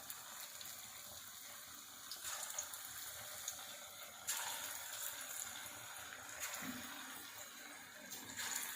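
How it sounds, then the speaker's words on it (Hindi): Pumpkin pakoras dropped by hand into hot ghee, frying with a steady broadband sizzle and hiss that swells in bursts as pieces go in, continuous and close throughout. "घी हमारा गर्म हो गया, अब मैं पकौड़े डालने लगी हूँ"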